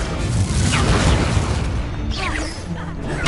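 A loud, rumbling magical blast from the Confringo spell in a Harry Potter video game, sustained booming and crackling for several seconds with no voices over it.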